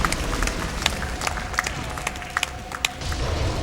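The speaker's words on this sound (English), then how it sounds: "round of applause" Crowd applause and scattered claps at a live gaming charity marathon event, a steady wash of clapping with a few sharp slaps standing out, moderately loud and continuous throughout.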